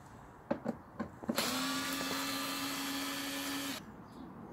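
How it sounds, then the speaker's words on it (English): Screws being undone on the air filter housing of a Skoda Octavia Mk3 1.6 TDI, a few short clicks and then a steady whirring tool drone held for about two and a half seconds before cutting off, with no talking. "undo all these screws all around"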